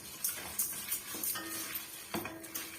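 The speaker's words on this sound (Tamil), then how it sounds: "மீடியமான ஃப்ளேம்ல வச்சு இதை நம்ம வறுத்து விட்டுக்கலாம்" Dried red chillies roast in a pan over a medium flame for Andhra tomato chutney, with faint, irregular scrapes and light clinks of a spoon against the pan, quiet and close.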